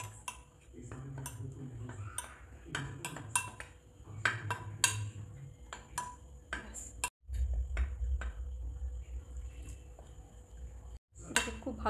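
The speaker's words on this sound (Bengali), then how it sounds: "এটাকে খুব ভালো করে মেশাতে হবে, ভালো করে মেখে নিচ্ছি।" Gram flour dough spiced with turmeric, ajwain and chili flakes is mixed and kneaded in a bowl, making repeated clinks, taps and scraping knocks in an uneven rhythm, with a few brief silent gaps.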